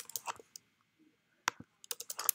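Fingers typing code on a computer keyboard, sparse bursts of crisp key clicks separated by short pauses, close and fairly quiet.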